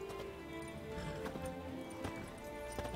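Steady clip-clop of horse hooves at a run in The Witcher 3: Wild Hunt, rhythmic and moderately loud over a dense bed of game music and ambience.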